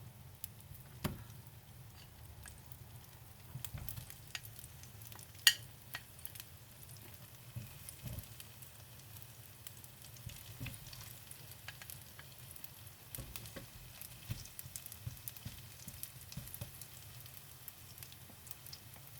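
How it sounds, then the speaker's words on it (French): Slices of cooked rice cake frying in a pan give a steady low sizzle throughout, with scattered light pops and crackles, close up and with no talking. "Maintenant avec la même poêle, vous faites frire les tranches"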